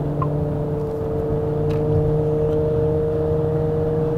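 A Renault Grand Koleos gasoline AWD in sport mode, a steady engine drone and road hum heard from inside the cabin, even and continuous with no distinct revs or gear changes.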